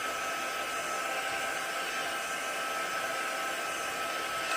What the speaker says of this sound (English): Now I am going to grab the heat gun,